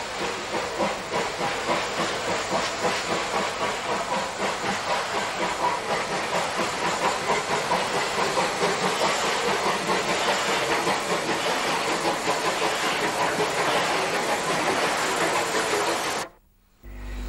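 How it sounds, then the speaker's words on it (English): Unrebuilt Battle of Britain Pacific steam locomotive 34079 working a train on British Railways, a steady hiss and rhythmic chuffing rolling continuously at moderate distance before cutting off abruptly near the end. "the next train is powered by an unrebuilt Battle of Britain 34079"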